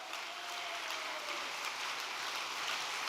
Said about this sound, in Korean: 우리 박수 한번 어머니께 올려주시기 바라겠습니다